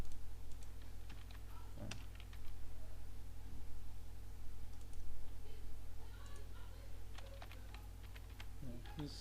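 Computer keyboard keys clicking at a desk while modding the game Gothic 1, with scattered presses and short bursts of typing over a steady background hum.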